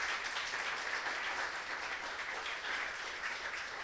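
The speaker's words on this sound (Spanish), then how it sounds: "Dale un fuerte aplauso al Rey." A church congregation applauds loudly and steadily, a dense, continuous wash of clapping that fills the whole stretch with no voices breaking through.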